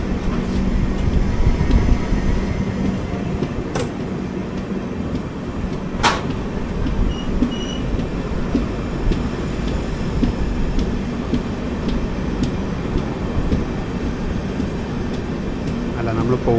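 Interior of an AC 3-tier coach on the 20909 Porbandar Express, filled with a steady low rumble from the moving train as it slows down, with two brief sharp clicks or knocks breaking through the drone.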